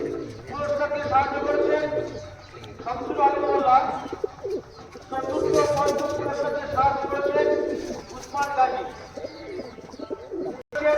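Teddy pigeons coo repeatedly in soft, rolling calls in a loft, several birds overlapping at close range, with someone talking over them throughout.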